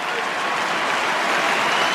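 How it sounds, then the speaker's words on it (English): Fremantle fans at an AFL football match against Sydney applaud in memory of Cam McCarthy, a dense, steady crowd clapping filling the stadium, with commentary speech over it. "the Fremantle fans stand to applaud in memory of Cam McCarthy"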